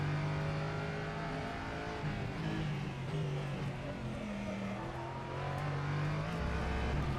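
Race car engine in the rFactor 2 racing sim, a Tatuus, Alpine Cup or LMP3 competition car, droning steadily at high revs with shifting pitch throughout, loud and close with no gaps.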